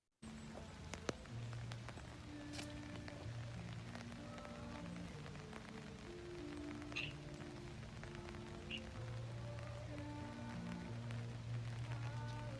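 Rain falling on a first day in Ukraine, a soft, steady patter of drops on surfaces heard faint and continuous throughout, with a low background hum.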